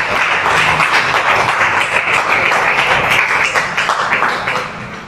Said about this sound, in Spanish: ¿Cuántos pueden darle un fuerte aplauso a Cristo Jesús en esta noche?